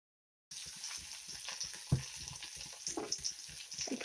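Mustard paste fries in a pan while being stirred, a soft, quiet sizzle with light scraping strokes and a few small pops.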